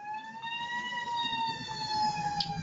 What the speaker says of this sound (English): we hear the siren to indicate that this is really important. I couldn't imagine a more appropriately timed siren.